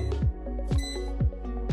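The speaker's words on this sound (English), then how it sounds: "You'll know the air fryer is done cooking when you hear it beep 3 times." A Cosori air fryer signals the end of cooking with a short series of evenly spaced electronic beeps, clear and close in a quiet kitchen.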